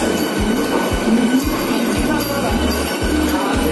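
A Vande Bharat Express train at New Delhi station gives a loud, continuous rumble with evenly spaced wheel clacks rolling past close by.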